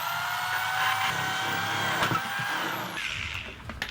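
A steady whining power drill runs near and continuously while boring holes in the side of a workpiece, its pitch dropping slightly toward the end as the bit cuts through.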